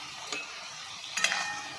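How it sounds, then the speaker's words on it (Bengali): Taro (mankochu) with prawns stirred in a frying pan, giving two brief scraping strokes over a faint, steady sizzle. "দিয়ে ভালো করে একটু নাড়াচাড়া করে নিচ্ছি"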